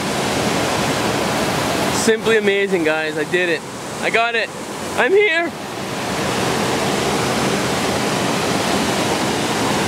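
A waterfall by a 200-year-old mill roars steadily and loudly, a broad, constant rush that runs from start to finish, while someone speaks briefly over it.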